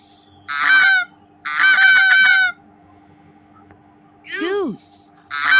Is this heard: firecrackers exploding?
no